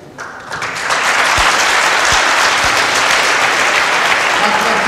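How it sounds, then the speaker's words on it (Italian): Studio audience applause on an Italian television program, swelling within the first second into loud, sustained clapping that stays full and even, with a few soft low thumps underneath. "Fate gli applausi, vi ringrazio"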